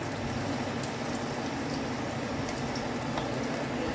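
Ginger sautés in a hot pan with a steady, even sizzle that stays close and constant throughout, and no talking.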